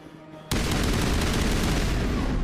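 Sudden burst of sustained rapid gunfire in the video game Mass Effect Legendary Edition, loud and dense, following a quiet moment.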